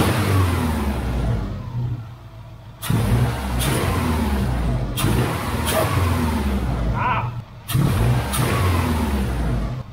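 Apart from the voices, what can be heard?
Subaru RS engine intake noise while revving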